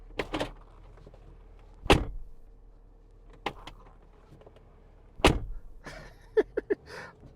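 Doors of a 2024 Mercedes-Benz G-Wagon shut with several solid, heavy thunks spaced a second or two apart, close and clear in a quiet cabin, followed by a few lighter latch clicks.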